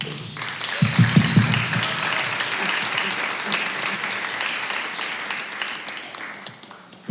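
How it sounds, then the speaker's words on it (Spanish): An audience applauds warmly to open a session on the alternative music scene, claps swelling quickly and then slowly thinning out over several seconds, with some voices murmuring underneath. "Antes de nada pido un aplauso para todos e comenzamos"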